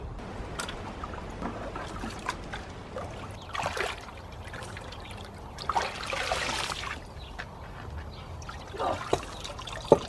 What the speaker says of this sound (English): So I'm gonna just take this bucket, start scooping out water.